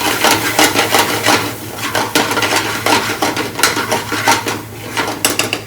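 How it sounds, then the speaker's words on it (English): Ingredients for an Indian-inspired salmon curry, with green chillies and green and red pepper slices, get stirred in a cooking pan, giving rapid scraping, clattering utensil strokes in an uneven rhythm, close and fairly loud. "Give that a mix there"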